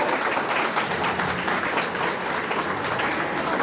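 A packed hall of people claps steadily at a school felicitation ceremony, the thick, even applause rolling on without a break.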